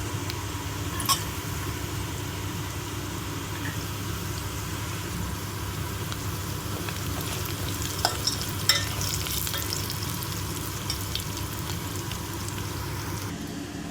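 Cashews fry in a pan after the tomato bath base has turned golden. A steady close sizzle runs throughout, broken by occasional clinks and scrapes of stirring.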